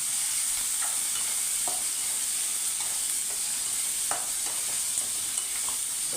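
Green chili, onion and tomato for a radish chutney sauté in a pan with a constant hissing sizzle, punctuated by sharp ladle taps and stirring scrapes, with no voices.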